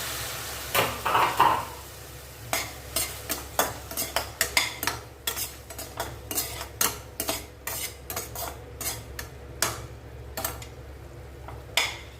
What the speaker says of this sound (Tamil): இப்போ நம்ம வேக வச்ச பாவக்காய்களையும் சேர்த்துக்கலாம்